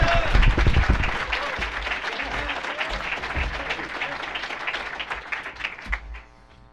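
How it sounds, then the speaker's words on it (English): Audience applause for a guest speaker at a startup community event, loud, close clapping from a crowd that starts strong, gradually thins and fades out near the end. "let's give a big round of applause for Patrick Collison"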